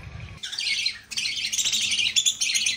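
Lovebirds in an aviary squawk loudly and close, a dense overlapping chatter of harsh calls that continues through with brief gaps.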